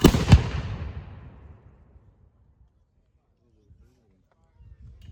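A single loud musket volley from militia infantry in a weapons demonstration cracks at the start and rolls away in a long echoing decay, followed by quiet and faint distant sounds.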